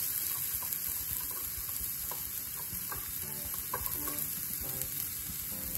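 Sliced onions sautéing in a pan with garlic-ginger paste, a continuous close frying sizzle with light stirring scrapes throughout; no talk.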